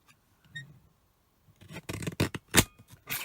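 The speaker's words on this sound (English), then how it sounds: "I'm going to cut the edges off." Scissors cutting the edges off and trimming craft scraps, a few quiet snips early, then a cluster of crisp, close cutting and rustling strokes in the second half.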